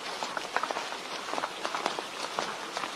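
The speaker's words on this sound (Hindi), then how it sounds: "फिर तेजी से बूंदाबांदी शुरू हो गई।" Light drizzle begins falling, heard as soft, scattered patter of drops on a surface with a steady hiss beneath. It is faint and close, with irregular small taps and no voices.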